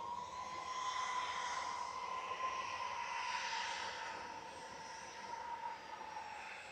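Corendon airliner rolling for takeoff at Manchester Airport, a distant jet engine roar with a steady whine that swells and then slowly fades, heard alone.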